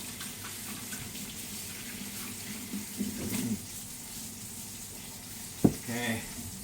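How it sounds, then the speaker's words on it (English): Tap water runs steadily at moderate level while hands are washed beneath it, with soft splashes and a couple of brief clunks near the end. "So let me wash my hands."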